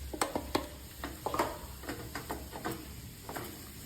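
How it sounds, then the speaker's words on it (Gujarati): A spoon working cardamom powder and finely chopped cashews, almonds and pistachios into a sugar-free date mixture for khajoor pak, making irregular close scrapes and light clinks against the pan over a faint background hiss. "હવે આપણે તેમાં ઇલાયચી પાવડર નાખી દઈશું અને કાપેલા ઝીણા સમારેલા કાજુ બદામ પિસ્તાનો ભોકો પણ નાખી દઈશું"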